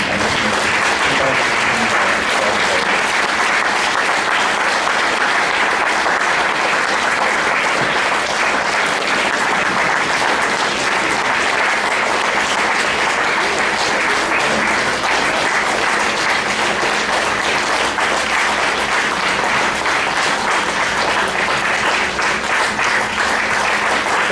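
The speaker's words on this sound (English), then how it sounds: "please help me recognize with a round of applause one of the 3 inductees in Minnesota Hall of Fame" Sustained, dense applause from an audience greeting a Minnesota Hall of Fame inductee, loud and steady for the full stretch with no break or talk over it.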